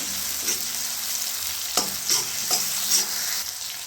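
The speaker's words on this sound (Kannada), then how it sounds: "ಟೊಮೆಟೊ ಹಾಕೊಳತ್ತಿದ್ದೀನಿ ಚೆನ್ನಾಗಿ ಹುರಿಲ್ರಿ" Chopped tomatoes fry and get stirred in a pan for bitter gourd palya, a loud continuous sizzle broken by about five distinct spatula scrapes and pushes, with no voices.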